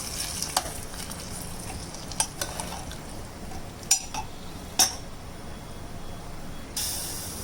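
A spoon stirs sambar in a cooking pot over a low, steady simmering hiss. A few sharp clinks of metal against the pot come at irregular moments, close and moderately loud, with no talking.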